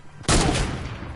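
Gunfire erupts in a game scene as officers shoot at tires: a single loud, close burst of shots that hits suddenly and then decays over about a second.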